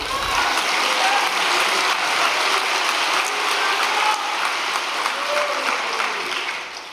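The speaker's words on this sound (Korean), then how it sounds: "너무 과분한 박수 주지 마십시오." An audience gives sustained applause after a Korean Methodist missionary's address at a church gathering, a dense, steady wash of clapping that fills the whole stretch and tapers slightly at the end, with no talking over it.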